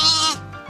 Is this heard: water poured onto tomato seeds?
no